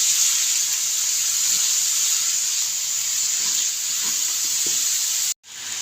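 225 grams of chopped onions fry in a pan, giving a steady, loud, close sizzle with hissing steam and occasional stirring scrapes, cutting off abruptly near the end, with no talking.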